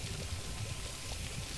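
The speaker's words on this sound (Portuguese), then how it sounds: "vou ter que encher esse regador de água" Watering can being filled in the LEGO Harry Potter game, a steady soft pouring stream of water that runs quietly and continuously without a break.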